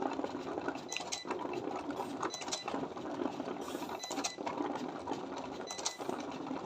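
A Cricut cutting machine works through label material, giving a steady mechanical whir broken by small clicks and ticks as the carriage moves, with no talk over it.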